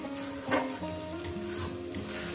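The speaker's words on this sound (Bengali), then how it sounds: "পেঁয়াজটাকে আমি ভেজে নিয়েছি। এরপর দিয়ে দেবো এই যে পোস্ত আর কাজু, এই বাটাটা এটা দিয়ে দিলাম।" Poppy seed and cashew paste hits fried onions in a pan, giving a steady close sizzle with brief stirring scrapes, a spoon knock around the half-second mark.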